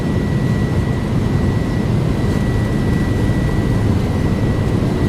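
Airliner jet engines roar at takeoff power in a flight simulator, a loud, steady, dense rumble with a thin whine running throughout.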